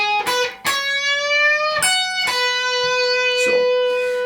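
A clean electric guitar picks a short lick of sustained single notes, with one note bent upward in pitch, clear and close with no talking.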